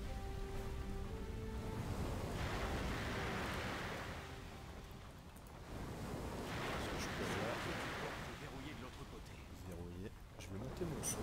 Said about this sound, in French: Des sacrées vagues.